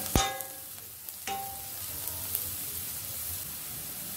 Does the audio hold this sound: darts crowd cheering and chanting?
no